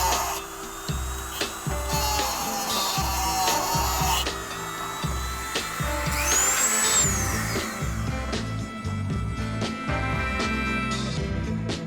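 A small Dremel rotary tool whines and grinds in bursts while working on an old Mercedes, with clattering handling noises between passes and a rising high-pitched tone in the middle; no one speaks.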